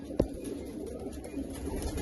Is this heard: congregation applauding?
no